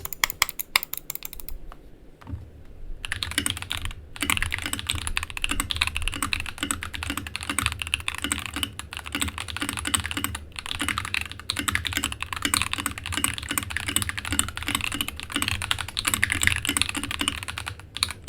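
Steady typing on tactile, factory pre-lubed MX-style mechanical keyboard switches, close and clear, with a continuous run of keystrokes and no voices.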